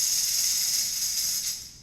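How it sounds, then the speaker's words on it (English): A tambourine shaken in one continuous bright jingle-rattle that holds steady and then fades slightly near the end, close by and without speech. "Let's shake the tambourine."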